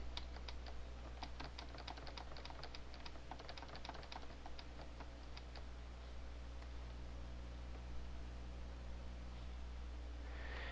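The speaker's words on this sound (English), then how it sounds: "we just push the insert key and then we type in a bunch of F's" Fingers tap steadily on a computer keyboard in quick clicking runs that thin out toward the end, faint and close over a constant low hum.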